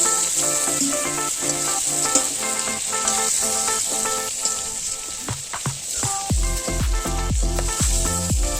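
Prawns shallow-frying in hot oil, a steady dense sizzle and crackle running throughout, with occasional sharper pops and stirring clatter toward the end, close and alone without voices.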